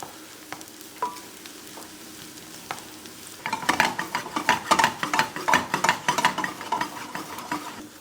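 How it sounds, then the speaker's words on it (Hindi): Onions fry and brown in a pan, starting with a soft hiss and a few light clinks, then stirring makes a dense, loud run of rapid scraping and sizzling crackle. "प्याज को बेसिकली ब्राउन करना है"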